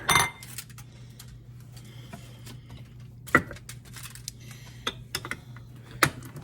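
Turkey casserole ingredients being mixed in a dish: scattered clicks and clinks of a utensil against the dish over a low steady hum, fairly quiet, a few sharper knocks, no speech.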